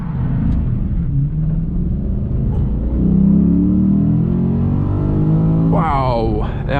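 A 2009 Lexus IS-F accelerates hard from a standstill to 100 km/h in sport mode, a deep loud engine roar heard from inside that climbs in pitch through the gears, with an upshift near the end.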